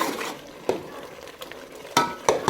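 Chickpea curry with chopped frozen coriander being mixed in a pan, a short spell of quiet gravy stirring marked by a few distinct spoon clinks against the metal, no voices present.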